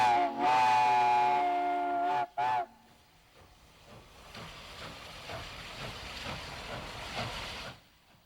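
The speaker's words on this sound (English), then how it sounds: "the lonesome sound of a steam whistle" A vintage Cotton Belt steam locomotive whistle blows a loud, sustained chord for about two seconds, then a short second blast, followed by the faint chuffing of a distant engine.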